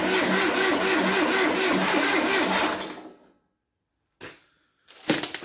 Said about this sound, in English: I was going to give it one crank and see what happens though.